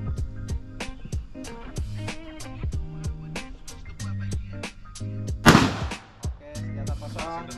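Firearm shots ring out at an outdoor shooting range, a series of sharp loud cracks at irregular intervals with one especially close heavy blast near the end, each followed by a brief ringing echo.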